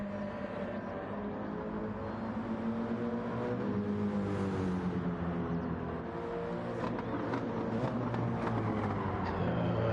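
Steady, loud engine roar of a GT3 race car lapping the Spa circuit in a racing video game, with rising and falling harmonic pitch through gear changes and no voices.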